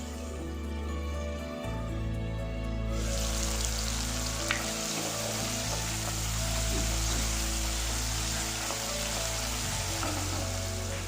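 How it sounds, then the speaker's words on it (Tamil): Steady, dense sizzling of finely chopped tomato sautéing in a hot pan, with a low hum underneath and a faint clink partway through; no voices. "ஒரே ஒரு தக்காளியை நல்லா பொடி பொடியாக நறுக்கி அதோட சேர்த்து நல்லா வதக்கி"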